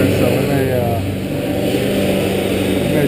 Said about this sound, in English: A lot more traffic here